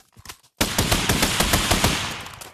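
Rapid automatic gunfire in the VR shooter Pavlov, a dense sustained burst that begins abruptly after a short quiet stretch with brief faint sounds, loud and close throughout.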